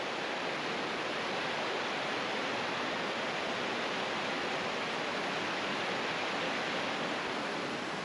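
Waterfall on Guimaras island pouring steadily into a large pool, a dense, constant broadband roar filling the whole clip without pause, close and loud with no voices over it.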